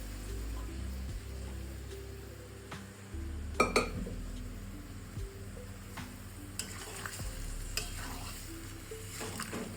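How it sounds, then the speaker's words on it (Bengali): Peas, chickpeas and kidney beans tumble into a pan for ghughni and get stirred, giving a soft sizzle with a brief clatter of metal and spoon scrapes midway, fairly quiet overall. "এবার আমি এটা ঢেলে দিই। মটর, কাবলি চানা আর রাজমা।"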